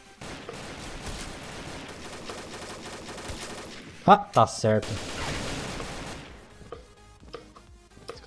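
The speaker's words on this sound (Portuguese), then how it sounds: "Escutei tiro" Bursts of rapid gunfire crackle through a busy Combat Arms match soundscape, with a loud cluster of shots midway, while a player speaks briefly in the background.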